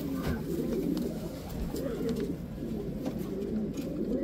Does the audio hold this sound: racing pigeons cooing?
yes